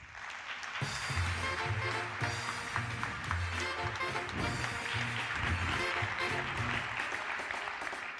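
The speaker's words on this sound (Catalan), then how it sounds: "un fort aplaudiment pel mag Lluc" An audience at a TEDx event in Igualada applauds the magician Lluc, with a dense, steady wash of clapping that holds for the whole stretch, loud and full from near the start to the end.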